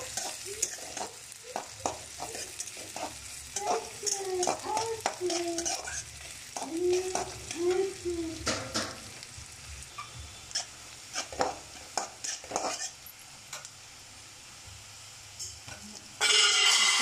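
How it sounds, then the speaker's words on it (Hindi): Sliced onions fry in a pan for a cabbage sabzi, sizzling steadily while a spatula stirs and scrapes with irregular taps. Soft talking drifts in under the cooking sounds. "प्याज को जब तक फ्राई करना ब्राउन होने तक उसको फ्राई करते"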